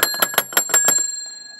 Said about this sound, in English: It is an old time bell.